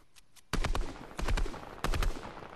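Rapid bursts of video game gunfire crack out in three loud clusters of quick shots, close and punchy with no talk over them.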